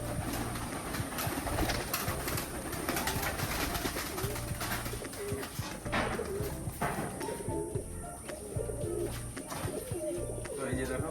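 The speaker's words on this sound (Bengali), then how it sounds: "সব বাইরে বের করে দিই, তারপরে কিন্তু পায়রাগুলো ছাড়বো।" Domestic pigeons coo in a home loft, a low rhythmic burbling that repeats throughout, with flapping and shuffling nearby and a person talking over it.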